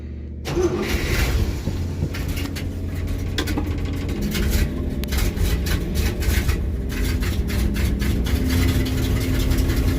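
A 1963 Studebaker Champ truck engine runs steadily up close, a continuous low rumble with clicks and rattles over it and no pauses.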